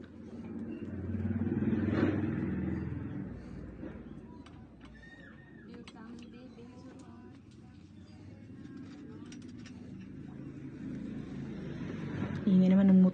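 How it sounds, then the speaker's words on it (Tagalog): A motorcycle engine swells loudly nearby and fades away within a few seconds, followed by quieter street noise, faint birds and people talking. "Ingay naman ng motor ah."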